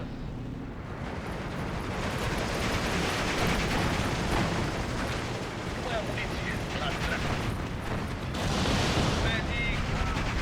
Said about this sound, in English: Let's see if we can napalm bomb the sniper team.